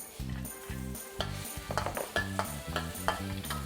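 Garlic sizzles steadily in a hot pan with repeated stirring scrapes and light clinks of a utensil against metal.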